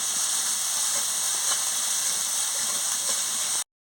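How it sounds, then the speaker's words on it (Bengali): Spice paste with a little salt sizzles in a pan as it is fried down for an okra curry, a steady close hiss that holds evenly throughout and then cuts off abruptly. "ভালো করে মশলাটাকে কষিয়ে নিচ্ছি"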